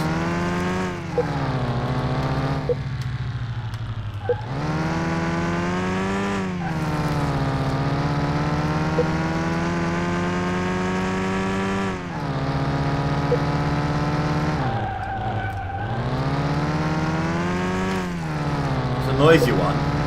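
Rough, uneven car engine with a worn crankshaft running in the Car Mechanic 2021 game, a steady harmonic drone whose pitch rises and falls over twenty seconds, loud and continuous with occasional dips, with a voice talking over it.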